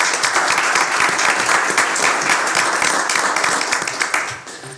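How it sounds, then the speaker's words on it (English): A school board meeting audience applauds steadily, dense clapping filling the room for several seconds before tapering off at the end. "I would like to give a round of applause to Joy Odom Grant and team and to our entire cabinet and staff at this time."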